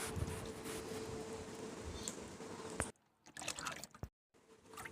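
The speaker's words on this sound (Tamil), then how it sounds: "இந்த பத்து லிட்டர் தண்ணியில் இந்த ரைஸ் வாட்டரை மிக்ஸ் பண்ணிக்கலாம்" Quiet liquid sounds: rice water trickles and splashes into ten litres of water, with brief pauses and soft sloshing as it is mixed.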